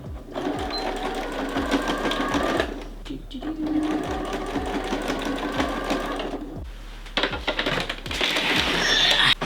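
A sewing machine bastes a fabric tie onto a shirt seam in close, steady rhythmic bursts of stitching with brief pauses between runs, running alone without talk.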